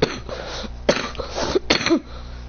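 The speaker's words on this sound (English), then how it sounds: "I'm coughing a lot." A person with bronchitis coughs three times in quick succession, harsh, close and fairly loud, with brief raspy gaps between the bursts.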